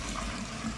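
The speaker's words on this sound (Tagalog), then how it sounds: "ilalagay natin yung ating pinakuluan, yung sabaw natin sa ating gulalo. Ihalo na natin dyan." Bulalo broth being poured and mixed, a brief continuous watery rush and splash, close and fairly loud.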